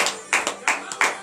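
Congregation clapping in praise during a morning prayer service, heard as several loud rhythmic bursts of handclaps in quick succession, close and crisp, with a little voice mixed in.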